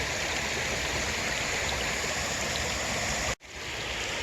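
Creek water rushes steadily under a bridge at a campsite, a dense, continuous flowing hiss heard up close, broken once by a brief dropout near the end.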